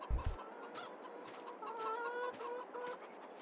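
Chickens cluck and murmur in a farm setting in the Farming Simulator 22 video game, a few soft, brief calls over a quiet background, with a short low thump near the start.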